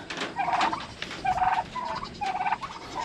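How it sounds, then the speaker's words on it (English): Turkeys gobble in bursts outdoors at a farmyard during morning chores, several rippling calls close by in an irregular rhythm with no talk. "I'm gonna let the big turkeys out."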